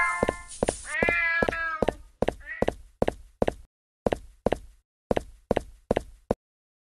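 A cat meows a few times early on in the mobile game Scary Stranger 3D, then a steady series of sharp, evenly spaced knock-like thuds follows in a clean, isolated digital setting.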